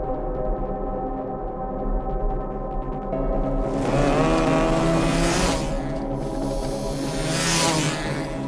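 A car in an action movie drives with a steady engine drone, then revs harder with rising whooshing bursts mid-clip, loud and close, before easing as it runs low on petrol.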